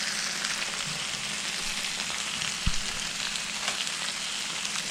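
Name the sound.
steak sizzling on a George Foreman grill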